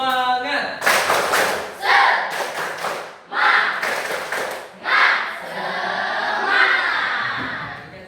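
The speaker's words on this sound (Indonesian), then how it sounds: "Oke, sama-sama tepuk semangat." Classroom of students performs a rhythmic spirit clap (tepuk semangat), with groups of sharp clapping bursts and taps between chanted voices, loud and close, ending in a sustained cheer.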